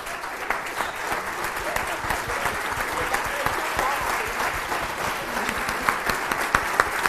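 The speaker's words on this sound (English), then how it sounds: "give yourself a round of applause" An audience claps in a steady, dense round of applause, many hands at once at a fairly even level, with a few sharper individual claps standing out near the end.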